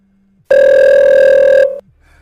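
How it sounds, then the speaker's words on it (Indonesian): A phone rings once with a loud, steady electronic tone lasting about a second, then cuts off abruptly. "Saat sedang santai, Maria dan Greg tiba-tiba ponsel Maria berdering dan ternyata Caleb."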